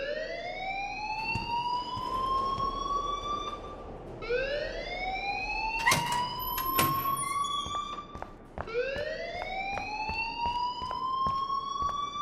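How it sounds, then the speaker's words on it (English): An alarm wails in the game Life Is Strange, three rising siren sweeps repeating steadily and loud, with scattered sharp clicks and knocks between them and no talk. "please turn off that alarm since that's your job"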